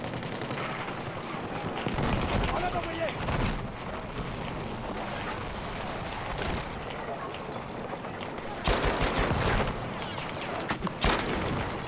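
Weapon fire in the video game Battlefield 1: a dense, continuous roar of rapid shots and blasts that swells louder in stretches, heard close up and without pause.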